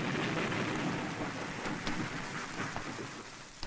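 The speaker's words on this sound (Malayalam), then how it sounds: "പുറത്ത് നല്ല മഴ" Heavy rain falling outside at night, a dense continuous hiss of downpour with faint rumbling beneath, steady and without voices.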